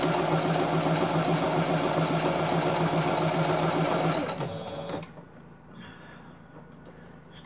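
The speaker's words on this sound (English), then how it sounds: "On the inside of my material, I'm just going to make one stitch and stop." A sewing machine stitches fabric for a Lancaster Rose quilt, with a fast, steady mechanical whirring and clatter that runs close and loud for about four seconds, then stops abruptly and leaves a quiet room.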